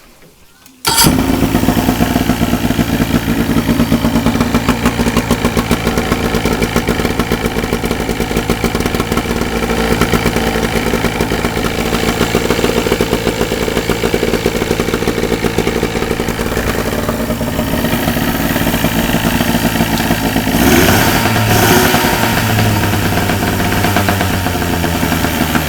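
A 30 hp Evinrude outboard motor, worn and shaking hard, fires up after a brief quiet moment and then runs loud and steady with a rattly, clattering idle close by, its pitch shifting slightly near the end.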